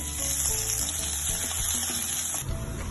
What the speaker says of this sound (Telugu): కడాయి పెట్టుకొని 2 స్పూన్ల ఆయిల్ వేసి తరిగిన అల్లం వెల్లుల్లి ముక్కలు వేసుకోవాలి.